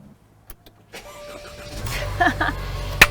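A car engine cranks and catches after a jump start from an Ampace P600 portable power bank, with short starter bursts building into a steady running rumble at close range.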